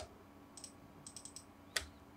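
Keys typed on a computer keyboard while drafting in AutoCAD: a few soft, close clicks in short clusters, then one sharper, louder key press near the end, with no talking.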